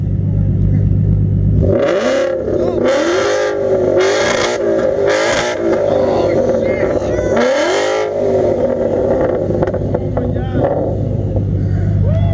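A Nissan GTR engine idles with a deep, loud rumble and is revved hard several times in close succession, each rev rising and falling. A voice speaks over the engine.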